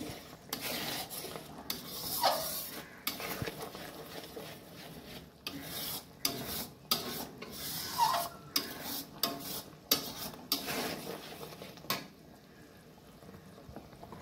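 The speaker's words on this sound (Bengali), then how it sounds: "এবার এটা ভালো করে মিক্স করি।" A spoon stirs and scrapes ground ginger, cumin and coriander paste in a pan for a vegetarian paneer makhana dish, making faint, rhythmic rubbing strokes with a soft sizzle and brief pauses between.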